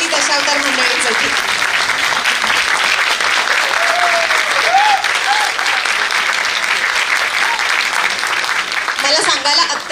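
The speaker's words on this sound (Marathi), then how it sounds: "एकदा जोरदार टाळ्या श्री देवी माऊली दशावतार मंडळींसाठी" Loud, sustained applause from an audience for the Shri Devi Mauli Dashavatar troupe performing Konkan folk theatre, dense clapping throughout with brief voice-like tones rising through it.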